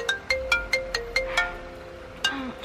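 A phone ringtone plays during a call back: a string of bright, evenly spaced electronic chimes, loud and close, then a short pause before another chime and a sliding tone.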